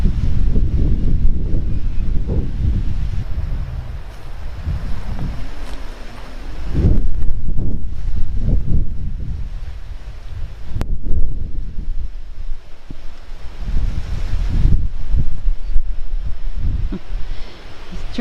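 Strong wind buffets the microphone in heavy roaring gusts that rise and fall throughout, with low rumbling and no voices, out on the water near a small boat while setting catfish juglines.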